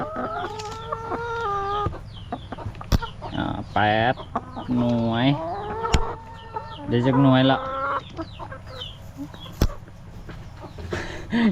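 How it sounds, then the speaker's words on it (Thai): Chickens cluck and squawk repeatedly near the microphone amid a farmyard egg count, with a voice counting aloud in Thai between and over the calls. "ไก่ก็มากวนนะ"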